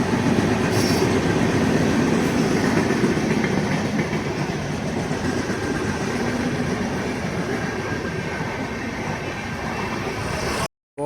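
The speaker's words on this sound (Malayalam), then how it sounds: "ട്രെയിനും പോണണ്ട." A train rolls past on the railway line near Alappuzha, a loud, steady rumble with rhythmic wheel clatter that stays close for the whole passage and then cuts off abruptly.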